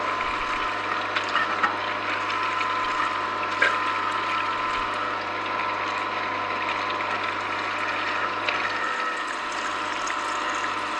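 An Angel Juicer pressing oranges gives a steady mechanical whir and grinding hum with faint gear ratcheting and trickling liquid, continuous and close throughout with no talking.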